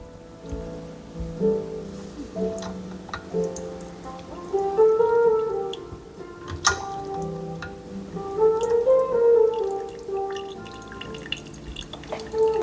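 Water poured over a Flair 58 espresso maker to rinse it, heard as scattered drips and trickling splashes that come in short bursts, with a couple of sharper knocks, close by and with no talk.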